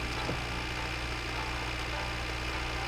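Tractor engine running in the game My Winter Car, a steady low drone with a rough, idling hum that stays even and constant, with no talking over it.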